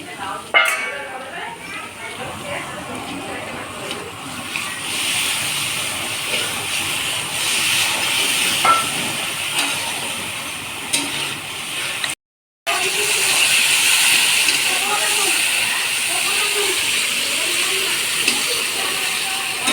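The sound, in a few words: fish curry spice paste sizzling after adding water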